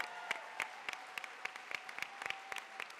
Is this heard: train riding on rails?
no